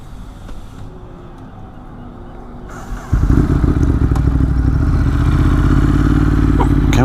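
A motorcycle riding through traffic, engine idling quietly at first, then revving up into a loud steady drone as it pulls away, with road and wind noise building behind it.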